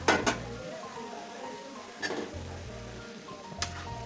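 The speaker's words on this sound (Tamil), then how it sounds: "இதை வந்து இனி இதில் சேர்த்திட்டா போதும் சேர்த்திட்டு நல்லா கிளறணும்" Boiled, salted cassava stirred into a pan for a Kerala-style tapioca kootu, with a few metal clinks of spoon against pan over soft scraping and mushy stirring.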